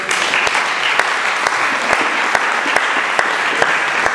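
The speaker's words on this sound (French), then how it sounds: "Est-ce que tu peux acclamer très fort?" Church congregation clapping loudly in a steady, even rhythm, sharp hand claps repeating about twice a second over a continuous wash of crowd applause and cheering.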